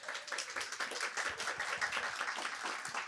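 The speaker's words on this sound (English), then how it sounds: "Maybe an applause for that." Brief burst of audience clapping at a charity impact report launch event, a scattered, moderately faint patter of hands lasting about three seconds with no speech over it.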